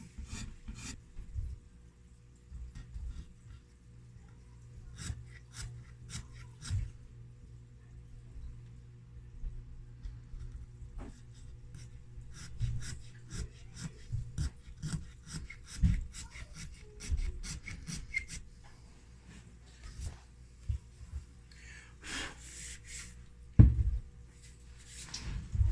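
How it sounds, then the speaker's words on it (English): A small hand scraper works over the wood of an acoustic parlor guitar kit, producing soft, close rasping strokes in uneven bursts, with short pauses and a sharper knock near the end. "now all I'm going to do is I'm going to go in with a little scraper, and I'm just going to scrape that"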